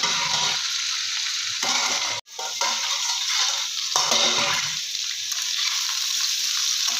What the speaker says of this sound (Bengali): বেগুনটা দিয়েও আমি আবার একটু ঢাকা দিয়ে আমি ভেজে নেব